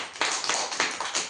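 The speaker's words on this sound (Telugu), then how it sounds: "క్లాప్స్ కొట్టాలి గట్టిగా." Children clap their hands loudly in a few quick bursts, close and fairly faint overall, with short gaps between the rounds of claps.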